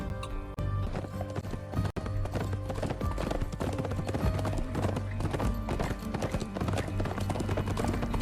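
Galloping horses in a TV western's opening theme, a rapid steady clip-clop of hooves beneath loud, continuous orchestral music, with a brief whinny-like flourish.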